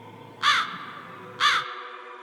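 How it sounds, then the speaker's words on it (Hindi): Two loud, harsh crow caws ring out about a second apart over a low, steady background hum, with no voices. "कौवा उसको पुकारता है"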